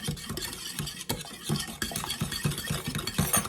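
Eggs whisked in a bowl, a quick steady run of scraping, tapping strokes against the sides, close and fairly loud throughout.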